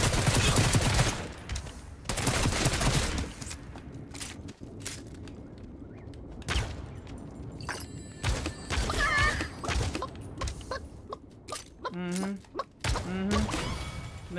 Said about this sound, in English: Didn't think I could shoot through a window, huh?